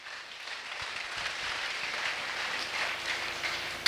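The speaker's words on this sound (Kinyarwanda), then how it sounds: "Twayikomeye amashyi." A congregation applauds inside a church, a steady wash of clapping at moderate distance that holds for about four seconds and ends on a louder accent.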